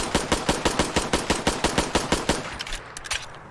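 Rapid HK USP pistol fire in a modded Fallout 4 game, a loud, evenly spaced string of about fourteen sharp shots in quick succession, then a few scattered clicks and mechanical handling sounds as the firing stops.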